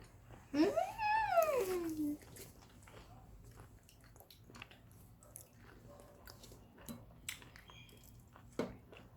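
Someone eats the head of a small octopus (nakji), with close, wet, squishy chewing in irregular bursts after a brief hummed vocal sound near the start.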